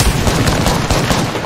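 Rapid gunfire from Apex Legends during a competitive squad fight, a dense, loud burst of overlapping shots running the whole time with no pause.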